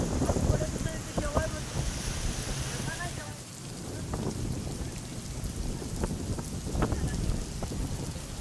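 Steady heavy rain pours throughout with a dense roar and scattered sharp drop impacts, broad and continuous from start to finish.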